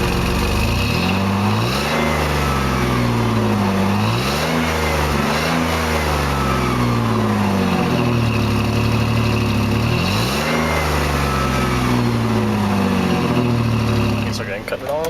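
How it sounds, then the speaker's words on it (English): A 2002 Jeep Liberty Limited V6 engine revs repeatedly in rising and falling sweeps, dropping back toward idle between blips, loud and close throughout with no talk over it. "These have awesome sounding V6s."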